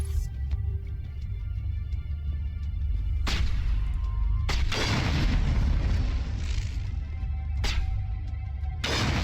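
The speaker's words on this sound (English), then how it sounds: "Good old sniper rifle." Sniper rifle shots ring out in the video game Mass Effect, four sharp, loud booming cracks spaced a second or more apart, each with a short decaying tail over a low, steady background rumble.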